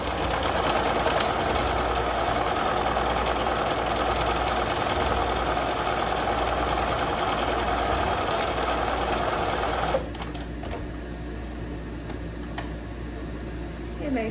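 Sewing machine stitching a paper quilt with its presser foot following a marked line, a loud, fast, continuous mechanical whir for about ten seconds, then stopping, leaving quiet room tone with a soft tap or two.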